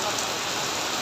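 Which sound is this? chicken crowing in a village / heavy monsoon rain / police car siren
heavy monsoon rain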